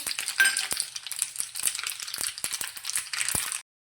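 Mustard seeds and white sesame seeds crackle in hot oil as a tempering for spinach and gram-flour patra, sharp irregular pops over a soft sizzle, close and fairly loud, stopping abruptly at the end.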